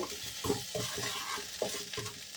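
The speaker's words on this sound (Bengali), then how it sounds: "আদাটা বেশ ভালো করেই ভেজে নিতে হবে" Ginger fries in a pan, giving a close, continuous sizzle broken by rhythmic scraping bursts as it is stirred. No voices are heard.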